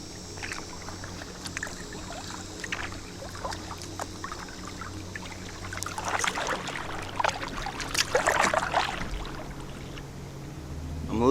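A kayak paddled through water toward a mangrove stand near Estero Bay, with soft splashes and drips from paddle strokes that grow louder and more frequent toward the end over a low ambient hum.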